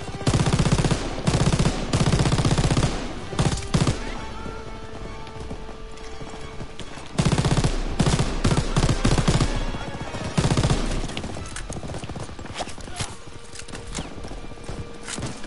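A machine gun fires in the Call of Duty WW2 video game, with long, loud, dense bursts of rapid shots separated by brief pauses and quieter stretches of battle noise.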